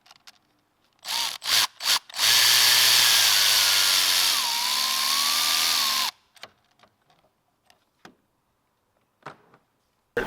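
A power tool works a 10mm bolt at the top of the alternator on a 2018 Lincoln MKC Reserve 2.0L turbo, starting with a few short bursts before a steady four-second whir whose pitch dips midway. It then stops, and faint clicks and taps follow.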